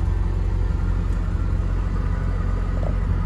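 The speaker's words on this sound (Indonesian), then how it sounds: "Langsung hidup ya mesinnya." An old car's engine idles right after starting, giving a steady, close, loud low-pitched rumble with an even pulsing beat and no talking.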